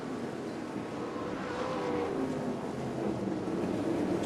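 A sprint car racing on a dirt oval during a B-Main at the Knoxville Nationals, engine roaring in a continuous loud whine that rises slightly as it passes, with no talking.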